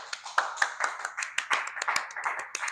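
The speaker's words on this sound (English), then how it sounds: "Big round of applause" A small gathering at a Silicon Swamp evening meetup claps for a speaker, a sparse scatter of individual, distinct hand claps at an uneven pace, close and moderately quiet, with no voices over it.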